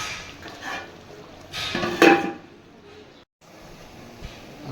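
A metal lid clanks onto a pot of mutton cooking with ground spices. One sharp, bright clatter stands out among softer kitchen knocks, close and fairly loud. A brief quiet gap follows, and there is no speech.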